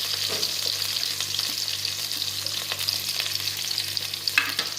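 Green chillies and onions fry in a pan for a mutton fry curry, a steady close sizzle and crackle with occasional stirring scrapes and pops, no talk.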